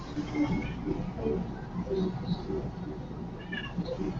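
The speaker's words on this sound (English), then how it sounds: "There goes my cat." A cat meows several times in a room while music or other background sound plays underneath, the cries moderately loud and repeated across a few seconds.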